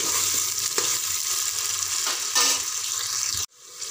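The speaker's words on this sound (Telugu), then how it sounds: "మీడియం సైజు 5-6 ఉల్లిపాయలు ఇలా సన్నగా కట్ చేసుకొని గోల్డెన్ బ్రౌన్ కలర్ వచ్చే వరకు వేపుకోవాలి" Thinly sliced medium onions fry in oil in a pressure cooker, giving a loud, close, steady sizzle with a few scraping stirs before it cuts off abruptly near the end.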